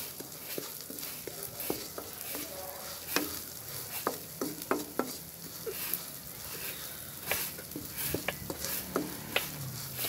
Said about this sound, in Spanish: Y cuando ya esté bien cocinadito el arroz, vamos a revolverle las albóndigas.